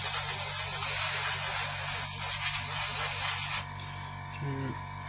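A model airbrush sprays primer onto a 1/32 Trumpeter Corsair at around 25 psi: a steady, close, broadband hiss runs for over three seconds, then drops to a quieter hiss.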